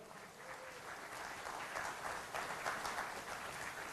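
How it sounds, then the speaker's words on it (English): An audience at the Mitoworld global launch event bursts into applause, a continuous spread of clapping from many hands, moderately distant and swelling slightly midway before holding steady. "Big round of applause."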